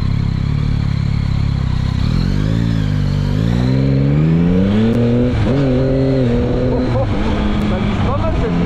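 A Yamaha MT-09 SP motorcycle's engine and exhaust run loud and close, rising and falling in pitch as it revs and accelerates, with a person talking over it.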